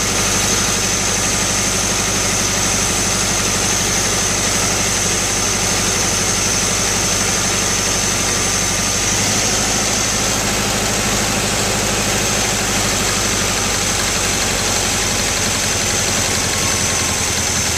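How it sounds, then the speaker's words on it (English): A 1972 Volkswagen Westfalia van engine with a German exhaust idles steadily and loudly up close, its low exhaust rumble and vibration continuing without a break. "Hey, that's a German exhaust."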